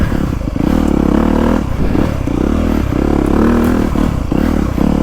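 Motocross bike engine under riding load, a close, loud, buzzing exhaust note rising and falling with throttle changes, with rattles and scraping clatter from the bike over rough ground.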